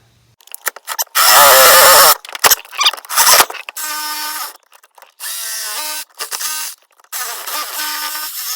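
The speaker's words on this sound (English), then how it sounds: "And then I've got the old cordless jigsaw here." A cordless jigsaw cuts in several loud, buzzing bursts of a few seconds each, stopping and starting with short gaps between them.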